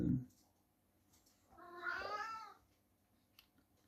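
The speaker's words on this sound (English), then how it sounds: "you can hear my cat in the background." A single drawn-out cat meow sounds at a moderate distance in an otherwise quiet room, following a brief soft thump.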